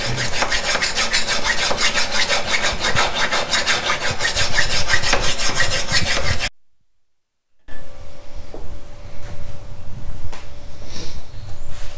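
Harsh abrasive grinding on a weld and an old steering box mount, loud and continuous up close, then a short silence before quieter intermittent grinding and rubbing resumes.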